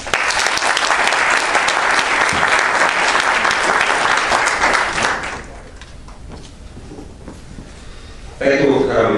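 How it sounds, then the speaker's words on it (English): A warm round of audience applause for the speaker Stephen at an architecture lecture: steady, dense clapping fills the room, then fades away, and a voice begins talking at the end. "please give a nice warm round of applause to Stephen"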